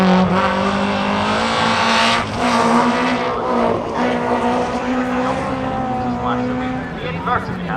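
Rally car driven sideways on a wet, rutted hillside stage at Knockhill during the McRae Rally Challenge, its engine droning loud and close with rising and falling revs, a commentator talking over it.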